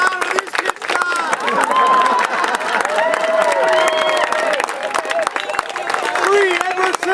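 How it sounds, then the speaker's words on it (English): An outdoor audience at a Renaissance fair show applauds and cheers for child performers, a dense, continuous wash of clapping mixed with crowd noise and voices, and a loud performer talking over it. "Clap loud for these kids, God!"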